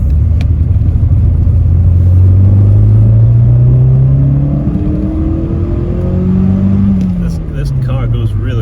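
Engine of a Volkswagen Golf GTI MK2 16v accelerating hard, a loud close rising drone that climbs in pitch over several seconds, shifts and climbs again, with a voice talking over it.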